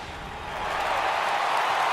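A home crowd cheering at a baseball game in MLB The Show 18, a broad steady roar of many fans that swells slightly and holds loud throughout, with no talk over it.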